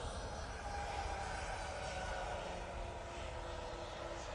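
Ryanair airliner at Manchester Airport, its engines giving a steady, fairly faint broadband roar heard from a distance, with no talk.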